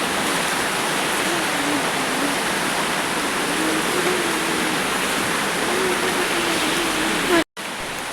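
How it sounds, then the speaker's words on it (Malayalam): Flooded river overflowing its banks after heavy rain, heard as a continuous, broad rushing roar of water with a faint hum beneath, broken by a brief dropout near the end. "അപ്പുറത്ത് പുഴയൊക്കെ കടന്ന് കവിഞ്ഞു പോയി"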